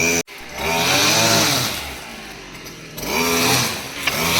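A brush-clearing machine roars loudly and steadily while clearing undergrowth around temple grounds, its engine pitch dipping and rising as it cuts through growth.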